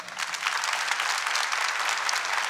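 A congregation at a Catholic service bursts into sustained, even applause from many hands, a continuous bright patter lasting a few seconds.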